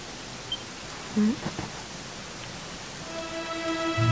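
Steady rain hiss in the video game Dragon Quest XI, a soft even wash throughout with brief game sound effects and chimes layered over it, no talking.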